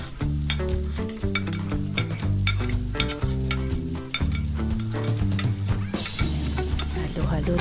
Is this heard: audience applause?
no